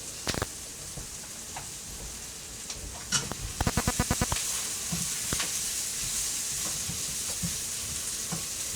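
Food sizzling steadily in a hot pan while a fond builds, a constant close frying hiss broken by scattered pops and a quick burst of rhythmic scraping or stirring taps partway through.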